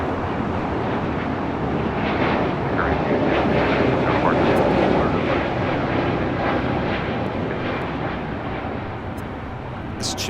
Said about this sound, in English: This is Spirit 266 taking off to Philadelphia on an A320 Neo.